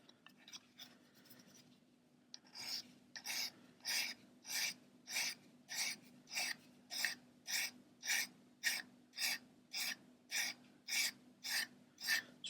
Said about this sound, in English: So we just need to finish the sanding on this